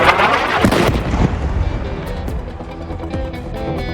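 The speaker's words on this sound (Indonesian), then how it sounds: "Ledakan yang diduga serangan itu mengenai sebidang tanah kosong yang berdekatan dengan deretan tenda pengungsi" A loud, sharp blast from a suspected strike on empty land beside refugee tents erupts at once, then a rumbling decay and scattered debris-like crackles trail off.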